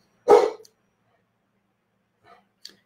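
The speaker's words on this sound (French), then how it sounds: "j'ai mon chien qui aboie très fort" One loud, close bark from a dog indoors, followed by silence and a couple of faint small sounds.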